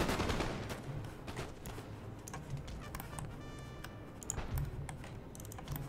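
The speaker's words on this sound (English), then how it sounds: "My light infantry are firing away, firing devastating volleys into the Munich militia." Rapid crackling musket volleys from light infantry in a Napoleonic battle in Napoleon Total War, dense overlapping shots fairly quiet and continuous, with no talking.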